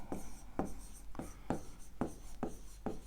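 Pen or chalk writing out geometry lesson notes, a steady series of short scratchy strokes repeating roughly every half second, close and soft with no talk over it.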